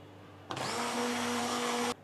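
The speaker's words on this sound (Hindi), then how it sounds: "हम हैंड ब्लेंडर से अच्छी तरह से इसे बीट करेंगे ताकि लम्प्स ख़त्म हो जाए" Electric hand blender whirring steadily through crepe batter for about one and a half seconds, a loud continuous motor whine that starts and stops abruptly, with no talking.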